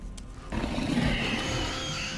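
A hound in Dishonored snarls and growls in a low, rough, continuous rumble, starting after a brief lull and holding steady at moderate volume.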